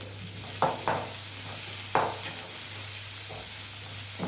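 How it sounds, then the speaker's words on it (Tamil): Garlic and small shallots sauté in a pan with a pinch of salt, giving a steady close sizzle broken by a few sharp spoon scrapes and taps, with no one speaking. "ஒரு பிஞ்ச் சால்ட் போட்டு நம்ம வெங்காயத்தை நல்லா வதக்கி எடுத்துக்கலாம்"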